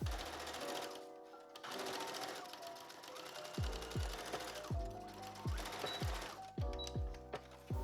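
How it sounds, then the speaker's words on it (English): A sewing machine top-stitching fabric ruffles onto the lining bodice of a homecoming dress, running in loud sustained whirring bursts, with short stops and restarts in the second half. "And now I'm going to top stitch these ruffles down onto the lining bodice,"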